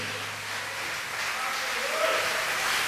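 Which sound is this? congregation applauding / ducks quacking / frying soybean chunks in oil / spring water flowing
congregation applauding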